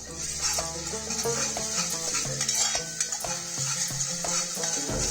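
Ginger-garlic paste is stirred in a pan with bay leaves, cardamom and cloves for a mutton korma, bright sizzling under repeated metallic spatula knocks and scrapes in an uneven rhythm, close and moderately loud.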